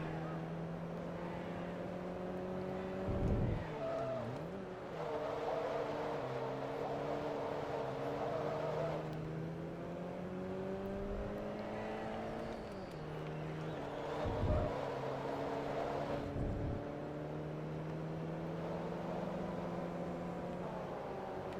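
Opponent race car in Forza Motorsport 2 at Tsukuba, an engine drone rising and falling in pitch with gear shifts, heard alongside the player's own car, with a brief passing swell around mid-clip.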